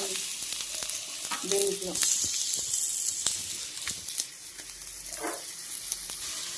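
Fried paneer pieces drop into a hot pan and sizzle, with sharp clatters of the pieces and a spoon over a continuous hiss; a voice speaks briefly.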